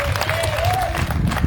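Crowd applauding at an outdoor political gathering near a polling center in Juja, a brief dense patter of clapping mixed with a voice in the crowd.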